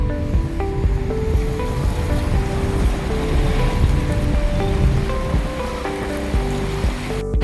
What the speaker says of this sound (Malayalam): പുക വരുന്ന പോലെ ഒരു ഫൗണ്ടൻ ഇപ്പം ഇത് നോക്ക്